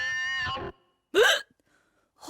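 Cartoon hiccups from an animated boy: two short, sharp voiced hiccup yelps separated by silence, close and clear, after a brief vocal sound at the start.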